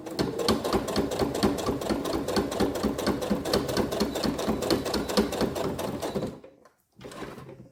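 Sewing machine stitching a fabric earphone pouch, a fast steady mechanical rattle heard up close for about six seconds, then stopping briefly before a short final burst of stitching.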